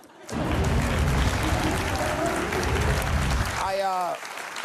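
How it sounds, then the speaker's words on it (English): Steady applause from a crowd fills the room for several seconds, then fades as a voice begins speaking. "That applause right there was a warm-up"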